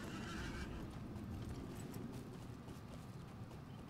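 A horse in a video game, with steady clip-clop hoof sounds and whinnying over continuous low game ambience, fairly faint.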